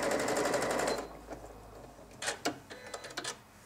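Sewing machine with a darning foot doing free motion stippling on fabric: a fast, buzzing run of stitches for about a second, then quieter scattered clicks and short mechanical bursts as the fabric is moved.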